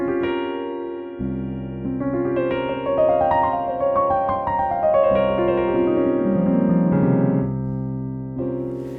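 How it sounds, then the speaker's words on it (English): A sus4 flat 9 chord with a dark Phrygian colour rings out as sustained stacked tones, then a line of notes descends through it over several seconds before a fresh chord enters near the end, with no talking. "So we're actually playing here a chord called the sus4 flat 9 chord."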